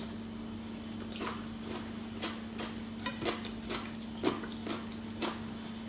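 Chopsticks clicking and scraping against dishes while someone eats a home-cooked Thai meal in a garage on a rainy day, with soft irregular taps over a steady low hum.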